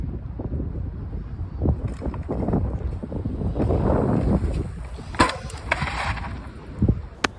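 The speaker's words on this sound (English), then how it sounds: "it's really windy, but it's a headwind, so it's sapping all my speed out of this" A strong headwind blows across a steep mountain bike line, with gusty buffeting rumbles against the microphone that swell and ease, along with a few sharp knocks and clatters near the end.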